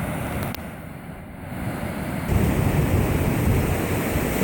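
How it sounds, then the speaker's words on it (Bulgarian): High water pours over the concrete weir of the Lopushna hydropower intake, a dense continuous roar that grows louder and heavier partway through, with no voices. "В момента се излива вода през самата преграда, тъй като е доста високо нивото"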